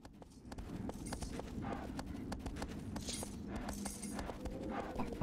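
Horse hooves clip-clop at a steady trot across ground in Shadow of the Colossus, a continuous rhythmic series of close, crisp hoofbeats over a breathy outdoor wind bed.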